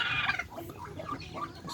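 Chickens cluck and chirp close by in short, busy bursts, with high peeping calls at the start from newly hatched chicks.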